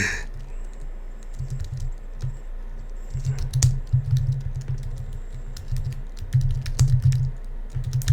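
Steady computer keyboard typing in bursts of rapid keystrokes, close and fairly loud, with short pauses between runs and no talking.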